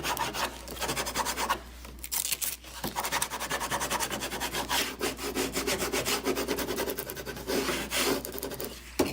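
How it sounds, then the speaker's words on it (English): Squeegee rubbing vinyl onto a wooden box, heard as a close, continuous scraping and rasping with rapid back-and-forth strokes and brief pauses, no voices. "you just squeegee this on"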